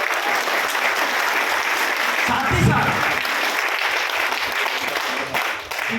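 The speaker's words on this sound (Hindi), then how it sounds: "एक बार जोरदार ताली हो जाए अपनी कंपनी को" An audience at a wellness training program claps in a loud, continuous burst that stays thick and even. A voice speaks over the clapping near the middle, and the applause thins slightly toward the end.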